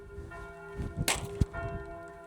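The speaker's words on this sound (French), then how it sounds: "je crois que les cloches de Sauterne sont en train de sonner" Church bells ring in the village of Sauternes, heard faintly and at a distance as a steady tonal hum with a few louder strikes and knocks mixed in.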